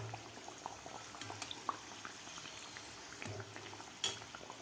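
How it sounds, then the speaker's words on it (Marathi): Matar kachori, a stuffed green pea pastry, frying in oil over a medium gas flame, giving a soft, steady bubbling sizzle with scattered small pops and a couple of sharper crackles, all fairly quiet. "आपल्याला मीडियम गॅसवरच आपल्याला हे कचोरी तळून घ्यायची आहे"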